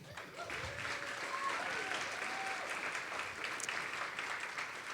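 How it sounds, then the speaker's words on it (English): Audience applause at a talk on Arctic change, a sustained, even roar of many hands clapping from across the room with faint voices underneath. "Another round of applause for them."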